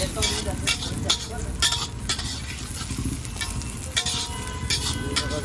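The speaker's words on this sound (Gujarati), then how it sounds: "હવે આપણે નાખીશું એની અંદર કોબીજ." Cabbage added to a sizzling pulao mixture in a pan, loud continuous frying hiss with repeated stirring scrapes and clinks of a spatula, close up.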